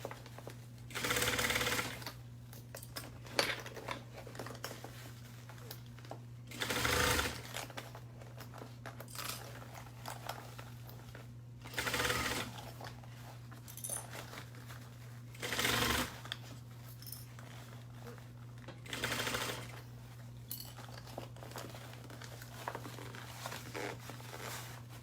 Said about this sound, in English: And we are sewing at 5/8 of an inch.